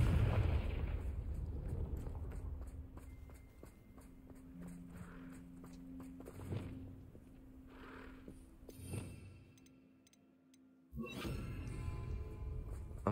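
A Confringo blasting spell explodes in Hogwarts Legacy amid scattered game sounds and footsteps, with a sharp burst and a loud broadband eruption late on after a brief lull.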